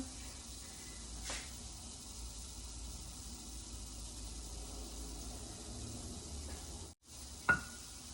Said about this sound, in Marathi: ही भाकरी आता तव्यावर घालूया